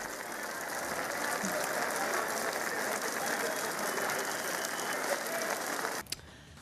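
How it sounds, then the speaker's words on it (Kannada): Heavy rain pours down in Bangalore as a dense, steady roar of drops that holds evenly for about six seconds before cutting off abruptly. "ಇವತ್ತು ಕೂಡ ಸಾಕಷ್ಟು ಜೋರಾಗಿ ಮಳೆ ಬಂದಿದೆ ಬೆಂಗಳೂರಲ್ಲಿ, ಇನ್ನೂ ಕೂಡ ಸುರಿತಾನೆ ಇದೆ"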